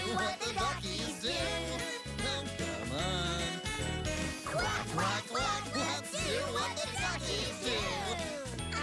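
Children's song with voices imitating duck quacks in rhythm over a bouncy musical backing with jingling percussion, steady and loud throughout.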